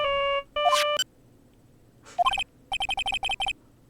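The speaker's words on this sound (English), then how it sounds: "I bet it was this ringtone that caused it." A cellphone ringtone from the Phoenix Wright: Ace Attorney – Justice for All video game plays as bright electronic beeping chimes. A short melodic burst comes first, then a pause, then rapid repeated tone pulses, clear and close with no speech.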